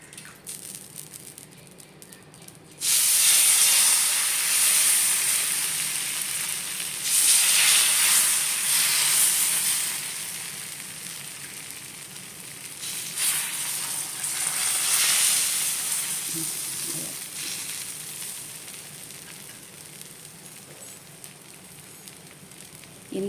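Ragi and drumstick-leaf dosa batter hits a hot pan and bursts into a loud, steady sizzle after a few quiet seconds, swelling and easing in waves as more batter is poured.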